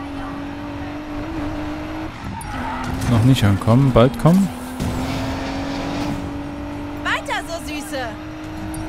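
A car engine drones steadily through a street race in Need for Speed Payback, rising into revving, whining bursts midway, while people talk over the driving.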